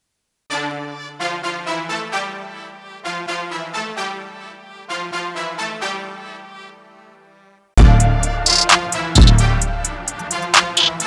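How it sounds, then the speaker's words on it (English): Three horns stacked together swell in a brass chord of repeated sustained stabs, then a louder, denser ensemble passage bursts in near the end. "And all 3 horns together sound like this stacked."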